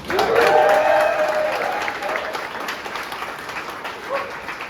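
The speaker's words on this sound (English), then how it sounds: "So give your hand, a round of applause for that." Party crowd applauding at a 2023 Bike Lane Uprising celebration, a loud burst of clapping with a few cheers that tapers gradually over several seconds.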